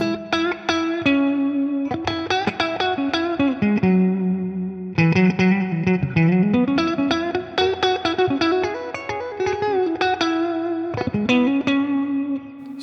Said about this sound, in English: So that's the room reverb